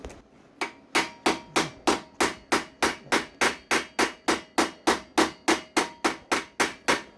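A hammer taps repeatedly on a hot, freshly TIG-welded Polaris RZR UTV frame to close a gap, about twenty sharp metallic strikes in a steady, quick rhythm, close and fairly loud with no talking.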